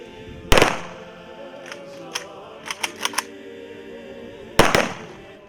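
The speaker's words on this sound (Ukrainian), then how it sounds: "Військовим салютом воїни-побратими вшанували пам'ять героя." Rifle volleys fired as a military salute at a Ukrainian soldier's funeral outdoors: a sharp loud crack opens, a few fainter scattered pops follow, then another loud volley near the end.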